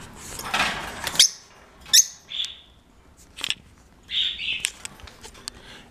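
Four pet birds in a house give scattered high squeaks and chirps, with short bursts separated by quiet gaps, fairly close and moderately loud.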